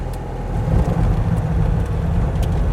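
A Citroën 2CV engine drones low and steady from inside the small car as it drives off-road, a constant near rumble with faint rattles and no talking.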